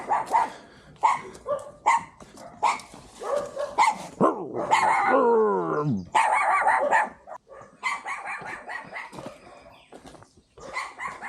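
A dog on a rural jungle path in Colombia barks in short bursts of yips and whines, close and loud, interleaved with people talking.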